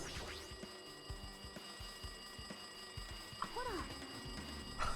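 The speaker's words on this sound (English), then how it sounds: "Looks like that phone is ringing." Telephone ringing inside a funhouse horror video game, repeated bell-like rings over a busy game soundscape with scattered clicks and thumps, ending with a louder burst.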